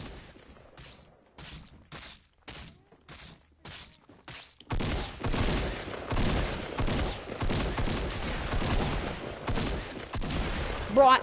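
Rapid bursts of gunfire in a Fortnite duos match, a few sharp isolated shots followed by loud, sustained automatic fire and thuds, close and dense with no talking over it.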